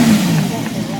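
A Ferrari V12 engine revs at a concours d'elegance car show, giving a brief, loud, deep rumble heard up close.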